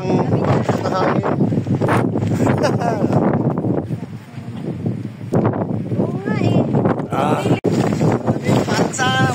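Strong wind roars across the summit of Mt. Tabayoc, a high mountain peak in the Philippines, buffeting the microphone in heavy gusts while people talk and shout over it.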